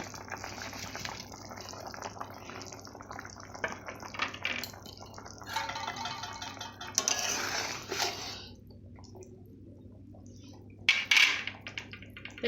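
Banana fritters dropped into a boiling pot of potatoes and stirred, with close clinks and scrapes of a utensil against the pot over a soft bubbling, watery background.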